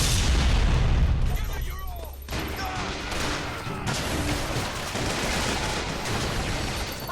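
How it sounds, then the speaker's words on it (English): Rocket blasts and gunfire in the video game Bioshock Infinite, a loud booming barrage at the start followed by a dense, continuous clatter of explosions and shots, with brief voices in the mix. "Watch out, rockets!"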